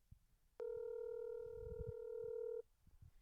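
A phone call rings out with one steady electronic tone lasting about two seconds, clear and level, while faint background noise and soft rustles sit beneath it.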